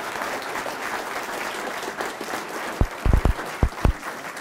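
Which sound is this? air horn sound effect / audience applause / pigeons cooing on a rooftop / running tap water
audience applause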